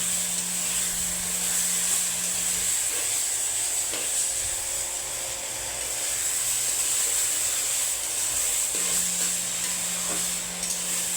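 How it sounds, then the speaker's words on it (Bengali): Rice stirred in a hot pan with lightly charred ginger for winter veg khichdi, giving a steady close sizzle and frying hiss with soft scraping stir sounds throughout. "চালটা দেবো আর এভাবে নাড়া দেবো।"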